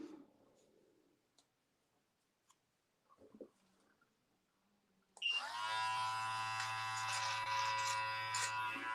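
An electric trimmer buzzes steadily and loudly close up as it tapers the top of a beard, starting abruptly after several seconds of faint clicks and quiet handling, with no talking.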